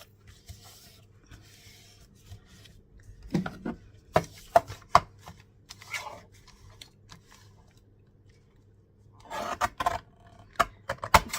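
Paper being trimmed for an altered pocket in a craft project, heard as scattered close scraping, rubbing and snipping sounds in short bursts with quiet gaps between, no speech.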